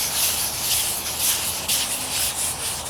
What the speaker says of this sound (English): using this long sanding block, really, it just saves time